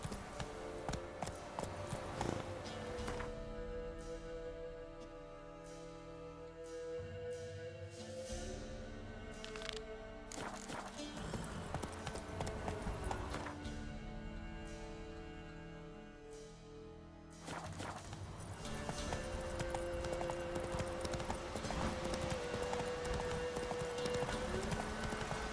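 A horse gallops in The Witcher 3, with rapid rhythmic hoofbeats running steadily under an orchestral game score, the music dropping away briefly partway through.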